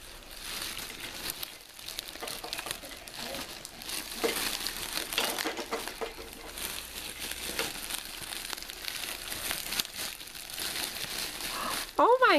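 Plastic wrapping on an Easter basket is torn and crinkled open up close, giving a continuous rustling crackle with some louder rips, while people talk quietly under it.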